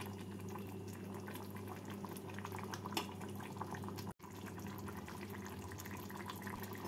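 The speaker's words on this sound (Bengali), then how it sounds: "নাড়াচাড়া করে ঝোলটাকে আরো 2 মিনিট ফুটিয়ে শুকিয়ে নেব।" A pot of potato and green pea curry gravy with slit red chillies bubbling steadily as it cooks down, a continuous close simmering hiss with faint pops and a brief break near the end.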